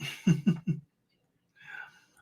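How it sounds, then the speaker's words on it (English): A few short, voiced throat-clearing rasps in quick succession, then silence and a faint breathy exhale. "Let me clear my throat."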